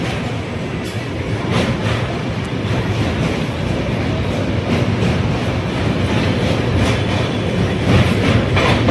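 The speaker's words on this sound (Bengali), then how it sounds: "তেমনভাবে কাশীঘাটের ওপর দিয়ে ট্রেন চলে যাচ্ছে" A train rumbles past steadily across a bridge, with a broad low roar and faint rhythmic clatter, loud and close throughout.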